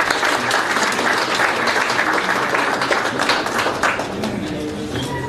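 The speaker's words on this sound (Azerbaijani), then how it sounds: "Buyurun, alqışlarınızla" Sustained loud audience applause for a speaker at a furniture company event, dense continuous clapping from a large crowd that eases slightly toward the end.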